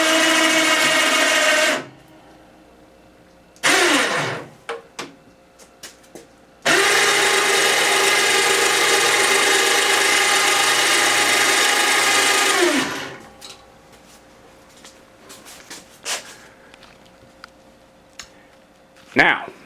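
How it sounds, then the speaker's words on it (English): An electric winch on an outboard motor lift whirs loudly in two long steady runs, a short burst and then a six-second stretch, separated by quieter gaps with clicks and handling noises. "So that just operates the winch."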